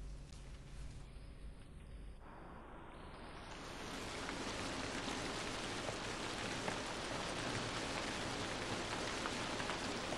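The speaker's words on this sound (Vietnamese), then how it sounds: "Ngoài trời mưa lớn rồi." Heavy rain falls outside, building from a quieter patter into a steady, dense roar after a few seconds and continuing alone.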